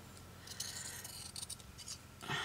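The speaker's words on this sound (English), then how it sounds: "I'm going to have to cut that off." Scissors snip through the overlocked edge of a piece of fabric, giving a short run of close, quiet crisp cuts with no voices over them.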